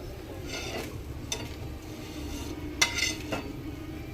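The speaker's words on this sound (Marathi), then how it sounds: "मांदेली फ्राय झालेली आहे ते मी आता एका प्लेटमध्ये काढून घेते" Fried mandeli fish is moved onto a plate, with soft scrapes and a few sharp metallic clinks of utensil against dish over a low background hiss, close and fairly quiet.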